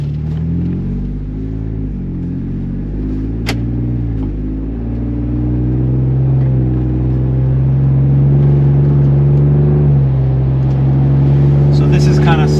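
A Ford Bronco fitted with a Roush axle-back exhaust accelerates, heard from inside the cabin, its low engine tone climbing through the gears and swelling steadily louder toward a sustained drone.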